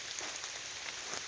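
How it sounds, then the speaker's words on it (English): Rain falls steadily through woodland as a dense, even hiss with scattered close drops pattering on surfaces, fairly quiet and continuous, with no talking. "we'll take this opportunity to walk in the rain"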